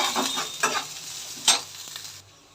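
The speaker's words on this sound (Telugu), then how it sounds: "ఉల్లిపాయలు వేసాము చూడండి కలుపుకుంటున్నాము" Onions fry in a pan for a liver fry dish, giving a soft continuous sizzle with a few scraping strokes of stirring and one sharper clack of a utensil, close and with no speech.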